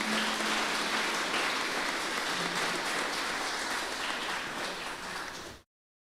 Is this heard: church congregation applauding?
yes